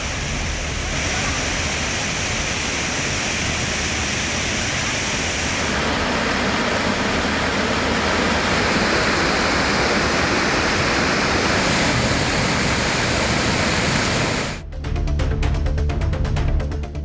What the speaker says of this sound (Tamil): கோதை ஆற்றில் நீர்வரத்து மேலும் அதிகரித்திருப்பதால் திருப்பரப்பு அருவியில் தண்ணீர் ஆர்ப்பரித்து வெள்ளப்பெருக்கு ஏற்பட்டுள்ளது